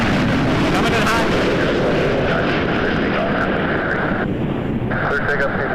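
A Boeing 737 MAX from Jamaica roars loudly and continuously on its high approach to land at Toronto Pearson Airport, a broad steady jet rumble with wind buffeting on the microphone.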